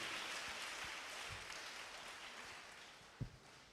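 A church congregation at a Saturday evening preaching service applauding, a dense, steady wash of clapping that fades slightly, with a sharp thump near the end.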